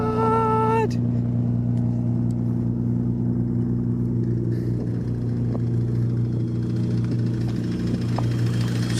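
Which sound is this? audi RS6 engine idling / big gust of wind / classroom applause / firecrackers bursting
audi RS6 engine idling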